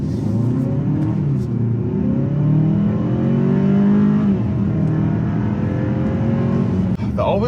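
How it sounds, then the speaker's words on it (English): A 2022 Hyundai Santa Fe with all-wheel drive out on a cruise, its engine and road noise forming a steady low rumble throughout, with a voice talking over it. "we are taking out Miss Hyundai Santa Fe for a little cruise"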